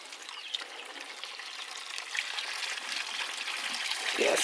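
Water swishes and trickles as onions are washed by hand in a village home, a steady faint splashing that grows slightly louder toward the end.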